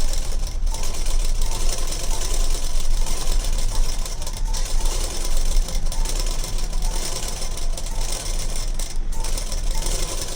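A sewing machine stitches a blouse lining up close, running steadily with a fast, rattling mechanical chatter and low thumping throughout, and a couple of brief dips in between; no voices.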